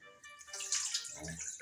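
Water is tipped off rice being washed in a pot, giving a brief quiet splashing pour with a few trickles and drips.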